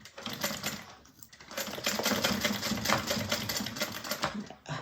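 A sewing machine stitches a bag, running in a fast, close, rattling whir that pauses briefly near the start and then continues steadily before it stops.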